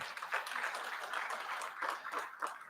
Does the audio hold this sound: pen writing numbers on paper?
no